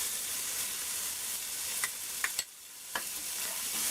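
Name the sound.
chopped bandhania sautéing in a pan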